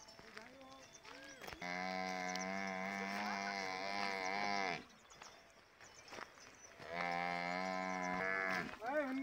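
Cattle moo in two long, loud bellows separated by a pause, close by on a herding farm, with faint rustling and footsteps in the background.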